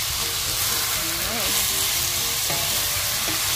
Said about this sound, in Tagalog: Haluin natin dito.